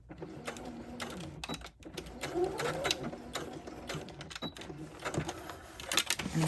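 A sewing machine stitches boning into a bridesmaid dress in quick rattling bursts that stop and restart between short pauses, up close and with no talking.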